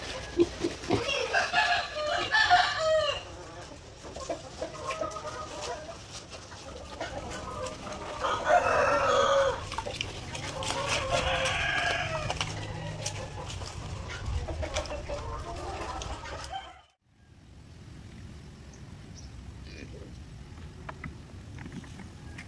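Farm chickens cluck and a rooster crows at a moderate distance, the calls rising in a couple of louder bursts over steady outdoor background noise before the sound drops away.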